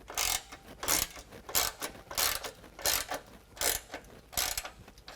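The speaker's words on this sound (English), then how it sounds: "set this band clamp, tighten it down with a 15mm" A ratchet with a 15mm socket tightens an exhaust band clamp during an aftermarket exhaust install on a 2020 Ram 2500, producing repeated bursts of rapid clicking at a steady rhythm, close up and fairly quiet.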